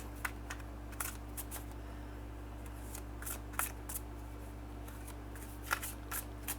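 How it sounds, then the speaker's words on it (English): Tarot cards are shuffled close by in short papery riffles and soft taps, with a few louder snaps over a quiet, steady hum. "I wonder if it would be easier to shuffle them lengthwise"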